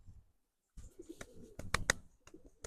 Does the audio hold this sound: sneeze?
no